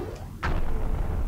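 Dark Jak bomb goes off in the video game Jak 3: a sudden, loud boom after a brief quieter stretch, followed by a sustained roaring rumble that fills the rest of the moment.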